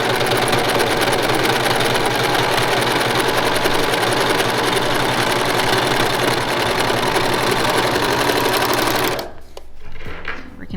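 An overlock serger sews and trims a frayed fabric edge with its cutting blade, a loud, steady mechanical whir and rapid clatter running nearly the whole time before stopping abruptly near the end.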